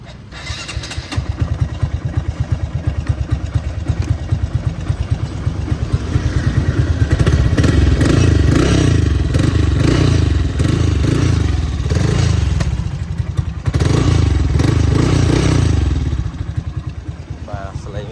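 A motorcycle engine, just repaired, starts with a clattering crank and settles into a loud, close, steady putter, rising in a stronger revving stretch midway before easing back toward idle.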